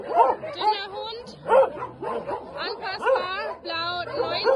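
A dog barks and yips repeatedly in short bursts close by, with whiny, whimpering tones between barks.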